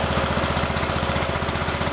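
A rebuilt Kohler small engine runs steadily with a fast, even, rhythmic chugging and a loud mechanical drone, close up and with no talking.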